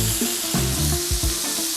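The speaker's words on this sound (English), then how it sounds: "All right, so the pot is hot. I'm gonna get all my bacon in." Bacon sizzling in a hot pot, a loud close frying hiss with a few quick stirring scrapes over a short stretch, no talking.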